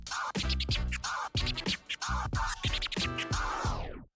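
DJ turntable scratching, a combo of two scratch techniques played together, with quick rhythmic back-and-forth chirping sweeps repeating in tight bursts, loud, close and alone.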